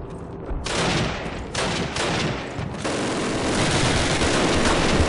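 Dense gunfire in a Call of Duty battle, continuous rapid machine-gun bursts and overlapping shots forming a loud, sustained barrage throughout, with no voices.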